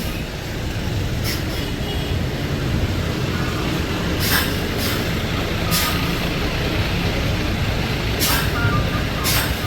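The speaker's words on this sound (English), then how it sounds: "bus behind me" A bus rumbles past very close on a street in Da Nang, Vietnam, its heavy engine drone filling the scene while several short hissing blasts of air brakes cut through.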